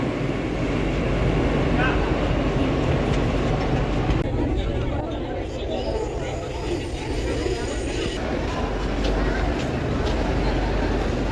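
Steady rumble and rattle of a moving Delhi Metro train from inside the carriage, continuous throughout, with voices talking faintly over the noise.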